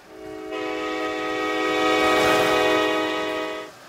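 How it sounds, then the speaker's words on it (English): A high-speed train in a Roblox game sounds a sustained, loud, chord-like horn that swells as it approaches and cuts off abruptly after about three seconds, with no talk. "And here comes that train for this earlier."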